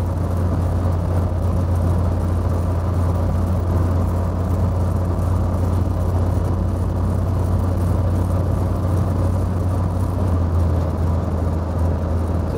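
A 1972 Triumph Spitfire MkIV 1300, an old British convertible sports car, cruising at about 60 mph, heard as a steady, loud engine drone with road and wind rumble that holds constant from inside the car.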